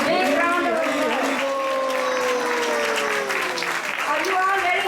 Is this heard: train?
no